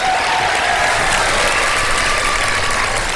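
A studio audience claps steadily through a televised game-show segment, a dense, even wash of applause with no breaks, loud and close.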